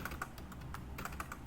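Quick, steady typing on a computer keyboard as a git clone command is entered in a terminal: a close run of light, even key clicks with no pauses or voices.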